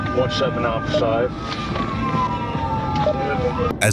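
During a high-speed highway chase of a Ford Ranger, a trooper's police siren wails with long gliding pitch sweeps, carried over constant road and engine noise and ending in a brief burst of buffeting.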